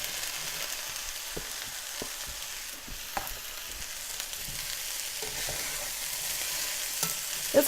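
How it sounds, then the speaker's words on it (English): Sweet potato, onion and peppers frying in a pan with a steady close sizzle, while a utensil stirs them in intermittent scraping strokes. "Now I'm going to add these to the pan and stir again."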